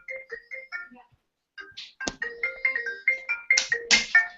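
A mobile phone ringtone plays a bright electronic melody of short tonal notes, pausing briefly before the phrases repeat more quickly and loudly, close by and alone.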